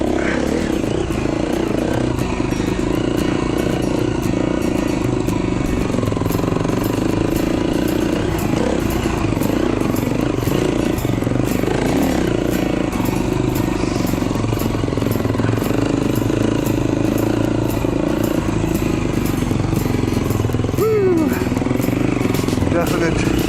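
A 2011 KTM 350 XC-F dirt bike engine drones steadily while the bike is ridden along a trail in Utah, loud and continuous under a rider's intermittent talk.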